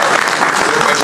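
Dense applause from an audience at a civil engineers' oath ceremony, loud and continuous throughout with no break.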